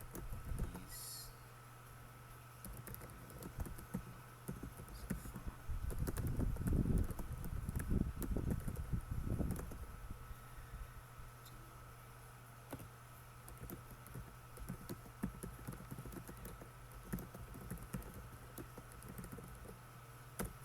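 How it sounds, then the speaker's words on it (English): Typing on a computer keyboard, a quiet run of soft clicking keystrokes, densest in the middle stretch and thinning out later, over a faint steady background hum with no voices. "let's just type something"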